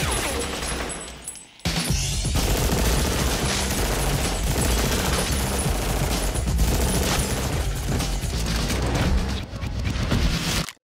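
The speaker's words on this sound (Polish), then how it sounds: "ostrej strzelaniny, jaka tam się wydarzyła" Dense bursts of shootout gunfire from a 1990s action movie scene, rapid automatic fire and heavy booms crowding together loudly, with a brief dip near the start before the barrage resumes and runs almost continuously.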